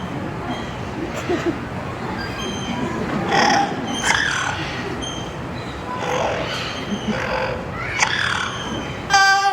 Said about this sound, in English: And that was Groucho, the yellow-naped Amazon parrot